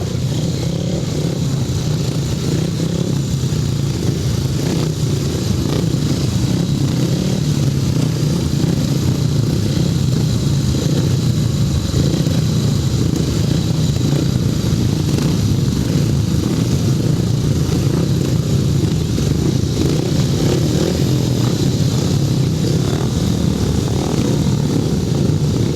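Racing motorcycles idle and rev while lining up on the grid, forming a loud, dense engine rumble that holds steady throughout, close and continuous.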